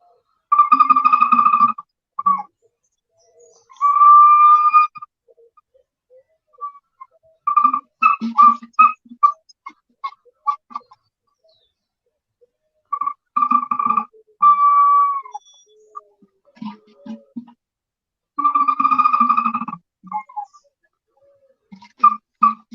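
Bursts of bird-like whistling from a clay vessel, with sustained warbling tones and trills broken by pauses, close and fairly loud, no voices.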